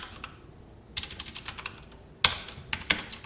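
Typing code on a computer keyboard: quiet, close key clicks arriving in short irregular bursts, with a few sharper, louder key strikes near the end and no talking.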